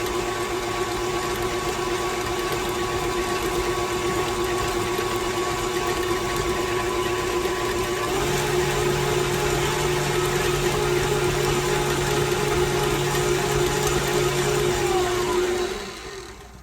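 An electric mixer fitted with a whisk beats softened butter for eggnog snickerdoodles, giving a steady, close motor whir that shifts pitch midway as the speed rises, then winds down near the end.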